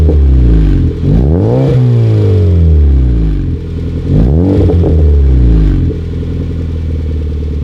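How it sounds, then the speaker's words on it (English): A 2009 Honda Fit with a Yonaka catback exhaust revs loudly at close range, two rising throttle blips climbing and falling over a steady, raspy idle. "why don't we do a little rev or two?"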